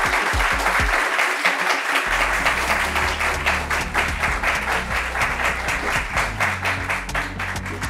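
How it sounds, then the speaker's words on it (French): A studio audience at a talk show applauds a guest, dense sustained clapping that stays loud for the full stretch with faint low voices beneath. "On applaudit pour Bama Rosine, s'il vous plaît."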